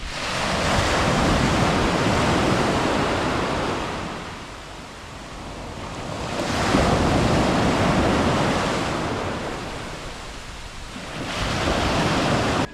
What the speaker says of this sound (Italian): io volevo farvi vedere il mare al tramonto